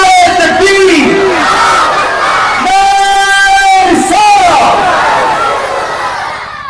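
A large crowd chants the takbir in unison at a Bengali religious gathering, answering a preacher's call with loud, sustained shouted phrases that rise and fall in a few waves, close and filling the space.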